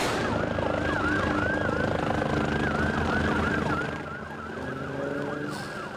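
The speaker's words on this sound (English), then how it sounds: "beautiful flower drop by the Maui police helicopter there in a missing man formation" A Maui police helicopter roars overhead in a memorial flower-drop flyover with a steady loud rumble while sirens wail and sweep up and down throughout, easing slightly near the end.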